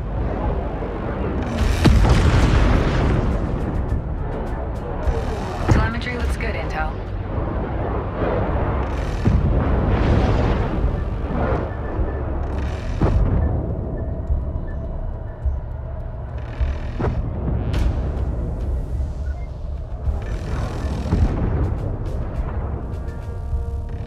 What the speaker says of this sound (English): mothership is under simulated fire. Hull defense guns are active and engaging targets.